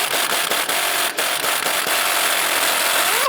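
A power tool with a 15 mm socket spins the sway bar end link nut off a 2011-2019 Ford Fiesta, a harsh, loud, continuous rattling buzz up close with brief dips and a rising whine at the end.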